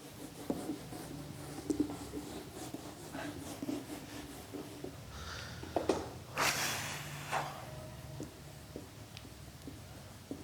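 A pen scratches out handwritten notes for a maths lesson on sets and relations, soft irregular strokes close by, with a brief louder rustle of paper midway and no talk.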